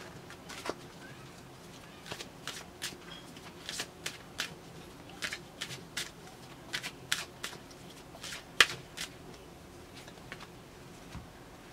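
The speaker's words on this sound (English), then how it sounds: "Let's draw one more card." Tarot cards being shuffled and drawn from a deck, a series of short, crisp riffling and flicking snaps in irregular bursts, close and fairly quiet, with no talking.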